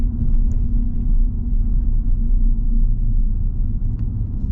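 Steady low road roar from inside a moving 2024 Ram 1500 V6 pickup truck, a constant droning hum of all-terrain tires on pavement with no voices.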